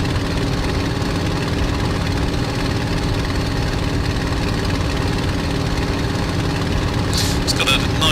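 A Messerschmitt BF 109G-6 engine idling in Microsoft Flight Simulator at Duxford, a steady, throaty, low drone that holds without a break, with a few brief clicks near the end.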